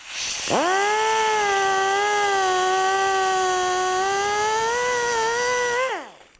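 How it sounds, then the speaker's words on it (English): Angle grinder with a grinding wheel cutting through a CV joint shaft on a 2010-2017 Chevrolet Equinox, a loud sustained whine that spins up abruptly, holds a steady pitch with slight wavering under load, then winds down. "Sometimes the easiest thing is just to use a grinder."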